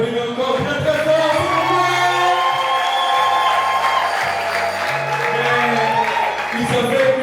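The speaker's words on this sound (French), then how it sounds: "Est-ce qu'on peut les applaudir encore très très fort?" Wedding guests at a religious ceremony applaud in a steady wash beneath someone talking over it, while low sustained organ-like tones and voices run through.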